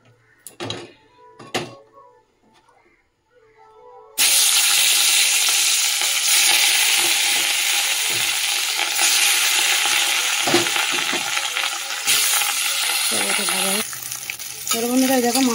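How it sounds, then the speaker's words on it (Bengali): Fish bones drop into hot oil and set off a loud, sudden sizzle after a few quiet knocks. The frying crackles on steadily and close, with stirring scrapes toward the end. "এখানে আগে এই যে মাছের কাঁটাগুলো ভেজে নিই"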